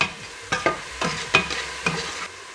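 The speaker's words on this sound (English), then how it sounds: "We're scraping up more of the fond, right?" Wooden spoon scraping fond from the bottom of a hot pan while onions and carrots cook for a pasta ragù, several distinct scrapes over a steady sizzle, close and alone.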